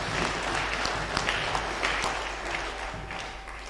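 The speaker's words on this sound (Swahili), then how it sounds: "Tumpigia makofi." A church congregation at a Kikuyu service claps steadily, a dense, moderately loud round of applause with no voices.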